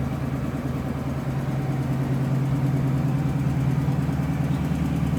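A 1966 Ford Mustang convertible with a stock 289 V8 and stock exhaust idles with a steady, low, even burble, heard close and continuous without any talking.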